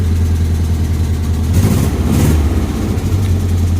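A 1963 Austin Healey Sprite engine idles close by with a loud, steady low rumble and a brief rise in the middle before settling back to an even idle, with no voices.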